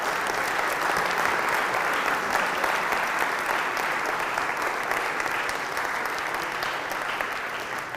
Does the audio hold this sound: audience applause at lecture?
yes